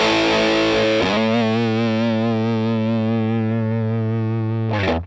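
An electric guitar played through a HeadRush pedalboard rig rings out a loud, sustained chord that holds for several seconds before it cuts off, with a fresh strum at the very end; no one speaks.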